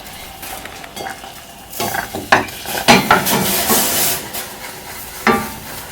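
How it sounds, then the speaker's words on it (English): A spoon stirs thick grits with butter, cream cheese, mascarpone and heavy cream in a pot, making close, irregular scraping and clinking strokes over a soft simmering hiss, with no talking. "Now you want to consistently stir. That is the key to grits."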